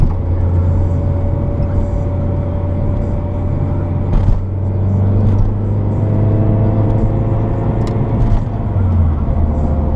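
A manual-transmission car's engine drones loud and close, the revs rising and holding in a steady rumble, with a low hum that shifts as the driver struggles to downshift.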